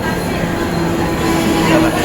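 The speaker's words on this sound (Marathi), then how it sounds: "ट्रेन येते बघतोय" A suburban train rumbles into Vasai station with a steady low roar and faint wheel hum, loud and close, under a rainy platform ambience.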